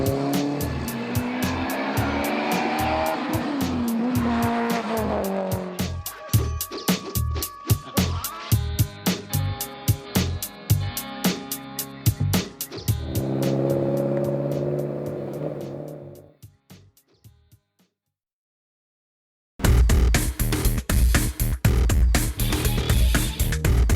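A Mitsubishi Evo revs hard and drives loudly with tire squeal and skidding, its engine note rising and falling repeatedly, then cutting briefly to silence before roaring back.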